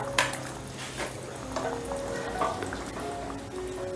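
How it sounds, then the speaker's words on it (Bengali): A spoon stirs soybean balls and tomato pieces through a curry frying in a pan, giving steady close scraping and soft sizzling with a few sharper clinks, and no voices. "এবার সমস্তটা একটু নাড়াচাড়া করে দিচ্ছি"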